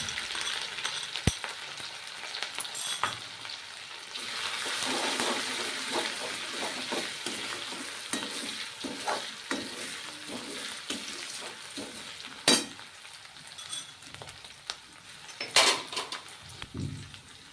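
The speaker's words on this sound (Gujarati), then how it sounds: "આપણું તેલ ગરમ થઈ ગયું છે, તો હવે વઘાર કરીશું. સૌપ્રથમ આદુ, મરચાં અને લસણ વાટેલા છે તે એડ કરશું." Crushed ginger, chilli and garlic sizzle in hot oil for a tempering, the frying hiss swelling after a few seconds and running steadily, with occasional sharp clinks of a spoon stirring against the pan.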